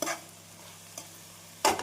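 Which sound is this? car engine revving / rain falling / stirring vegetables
stirring vegetables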